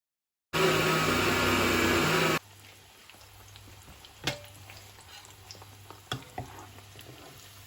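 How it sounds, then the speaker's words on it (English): Meat hits hot oil with a loud, dense sizzling burst for about two seconds, then settles into a quiet, faint frying crackle with a few scattered taps and pops, with no one talking. "the oil is ready, so I'm going to add my meat."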